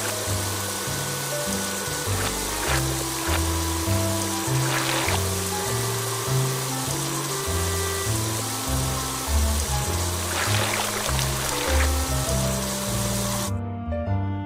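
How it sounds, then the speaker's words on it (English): A water sprayer rinses mud off a bus in a car wash video game, giving a steady hissing spray over a bouncy looping music track, continuous until it cuts off at the end. "drag the water sprayer to rinse off the mud."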